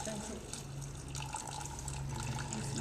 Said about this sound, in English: Yeah, continue, pour the water.